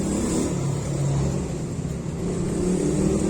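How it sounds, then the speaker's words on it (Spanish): Outside a house, a motorcycle ridden by a learner produces a steady engine drone with some revving, fairly close and continuous, with no talking over it. "los vecinos decidieron ponerse aquí afuera a aprender a andar en moto y han pasado como 30 veces"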